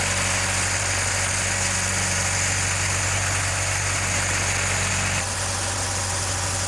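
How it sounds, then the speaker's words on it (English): The heavy diesel engine of a directional drilling rig rumbles steadily at close range as it starts up, a constant low drone with some mechanical rattle that shifts slightly near the end. No one speaks. "we're doing this directional drill right here"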